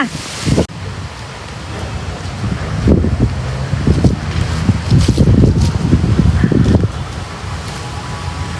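Steady wind gusting and rustling through many leaves in a cemetery, with buffeting bursts and a constant breezy hiss throughout.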